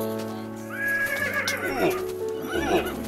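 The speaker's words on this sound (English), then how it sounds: "You stupid horse!" A horse in the video game Minecraft lets out two loud, close whinnies with rising and falling wavering pitch, one after the other, over light game background noise.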